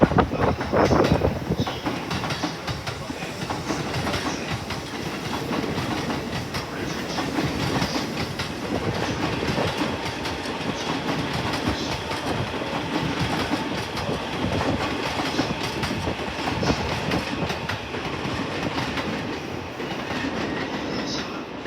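A 15-car JR local commuter train bound for Chiba pulls into platform 5 at Ofuna Station with a sustained rolling rumble, rhythmic wheel clatter and faint squeals, heard nearby from the platform.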